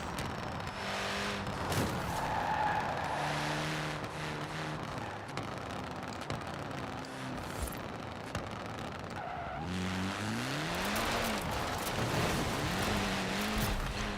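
Tires skid and squeal on a dirt road in a racing video game, with engine notes revving up and down over a steady loud roar of gravel and sliding, and no one talking.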